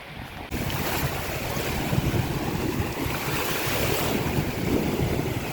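Sea waves breaking along the shore at Naic in the Philippines, a continuous broadband wash with strong wind buffeting the microphone, steady and fairly loud with no voices.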